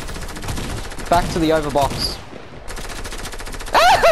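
Rapid video game gunfire rattles in dense bursts, loud and close, with a brief gap before resuming, while a player talks over it.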